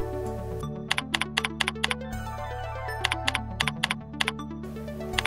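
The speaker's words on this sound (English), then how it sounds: "Begin by typing in some simple data." Computer keyboard typing while entering simple data into spreadsheet cells, in two bursts of crisp, evenly spaced keystrokes with a pause between, over a steady background hum and no talking.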